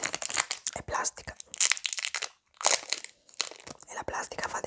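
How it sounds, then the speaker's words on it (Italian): A plastic wrapper on an Ambrosoli honey candy crinkles and crackles up close in quick bursts, separated by short pauses. "E la plastica fa dei bei suoni."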